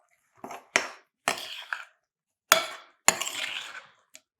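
A metal spoon scrapes and clinks against a bowl while stirring pistachio cranberry biscotti batter sweetened with vanilla stevia, in several separate bursts of scraping strokes, close and fairly quiet, with no talking.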